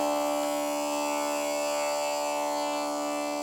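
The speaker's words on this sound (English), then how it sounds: "On the Scottish pipes, the drones come out the top of the bag." Scottish bagpipe drones give a steady, buzzing, reedy drone with a rich stack of tones, held continuously and fairly loud with no break.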